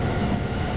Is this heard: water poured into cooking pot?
no